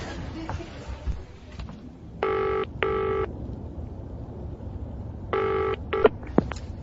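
Telephone dialing and ringing in an audio play: two pairs of electronic ring bursts separated by a quiet pause, with faint background murmur and a few clicks.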